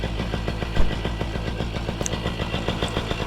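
A paramotor engine runs at takeoff with a steady, loud, pulsing drone that carries regular rapid firing beats throughout, plus one brief louder bump.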